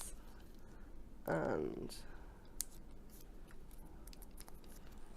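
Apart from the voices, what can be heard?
peeling tape off craft card pieces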